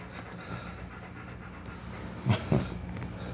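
A dog pants heavily and steadily up close indoors at night, with two louder, harsher breathing bursts near the end.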